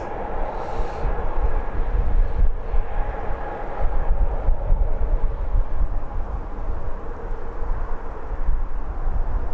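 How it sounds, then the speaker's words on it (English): A Ryanair airliner on the runway at Birmingham Airport gives a steady, loud, broadband jet engine roar that stays constant throughout with no voices. "Ryanair is already on the runway."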